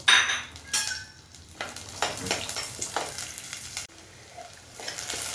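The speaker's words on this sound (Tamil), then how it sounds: "வெங்காயம் வெள்ளைப்பூடு கருவேப்பிலை இதை சேர்த்து வதக்கி எடுத்துக்கிடுவோம்" Onion, garlic and curry leaves sauté in a clay pot for an anchovy fish curry, giving a steady close sizzle broken by scraping stirs and light clinks of a utensil against the pot.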